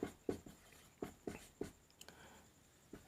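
Pen writing a definition by hand on paper during a maths lesson, a series of distinct scratchy strokes in bursts, close and fairly quiet with pauses between them.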